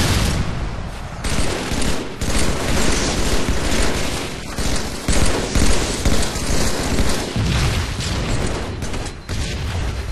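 Dense rapid gunfire fills a Halo 3 multiplayer match, with loud sustained bursts of automatic fire and explosions running almost continuously throughout.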